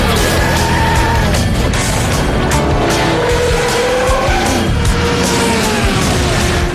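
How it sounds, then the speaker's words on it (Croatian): Cartoon race cars roar along in an animated kids' race, engines revving loudly and continuously with squealing tires and skids layered over one another, close and intense throughout. "Stisni gas. Brže, brže."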